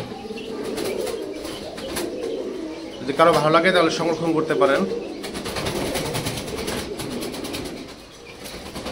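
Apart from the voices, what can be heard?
racer pigeons cooing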